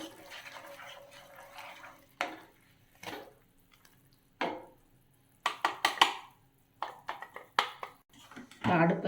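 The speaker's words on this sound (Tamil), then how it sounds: "இதை நல்லா நம்ம மெதுவாக கிண்டி விடணும், கட்டி இல்லாமல்." Cashew flour is stirred in melted ghee in a pan on a low flame, giving intermittent scraping and clinking strokes with quiet pauses between them.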